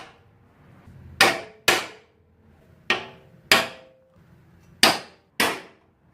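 Six sharp metallic hammer strikes on a center punch marking spot welds in the sheet metal of a Nissan 240SX radiator support, arriving in pairs with short pauses between, crisp and close in a quiet space.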